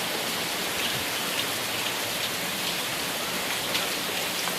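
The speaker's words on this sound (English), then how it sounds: "Absolutely love the rain." Steady heavy rain pours onto surfaces at an old homestead during a hot summer storm, a dense, continuous hiss close by with no voices and no thunder.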